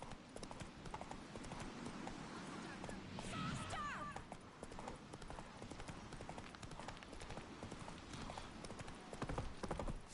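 Roach, Geralt's horse in the video game The Witcher 3, gallops in a rapid, continuous clip-clop of hooves, with a brief whinny and a voice calling out partway through.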